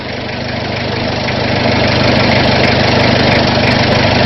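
A diesel engine idles close by with a loud, steady clattering knock that swells slightly after a moment and then holds even, with no talking over it.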